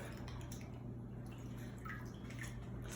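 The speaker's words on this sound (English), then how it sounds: "you're going to wash them in cold water, or you can rinse them off in the sink." Faint running and dripping water as dandelions are washed in cold water at a kitchen sink, a quiet, steady trickle with a few soft splashes.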